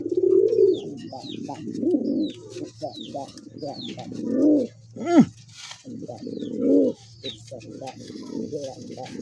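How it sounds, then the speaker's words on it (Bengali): Pigeons, including collected pairs with mottled necks, coo loudly and repeatedly nearby in deep rolling phrases, with someone talking in between the calls. "এর ডাকটা দেখেন, আরো দেখেন ভাই ডাক, যারা ডাক ভালোবাসে।"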